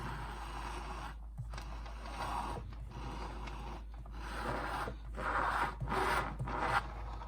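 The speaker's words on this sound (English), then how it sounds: "icing spatula against the cake and turn the turntable. Scrape any excess icing off." Icing spatula scraping buttercream smooth around a cake as the turntable spins, a soft continuous rubbing with gentle swells in strength, close and fairly quiet, with no talking.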